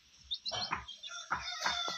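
A gavran hen and her chicks cluck and cheep faintly nearby, a series of short, uneven calls in quick succession.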